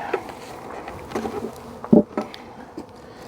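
Honeybees buzzing in an opened hive at a new apiary, soft scattered buzzes with a few louder close passes of individual bees flying near, over a quiet background.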